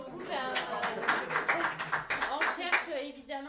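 Scattered clapping from a small audience at an after-work media gathering, fairly faint taps beneath overlapping voices, including a child's.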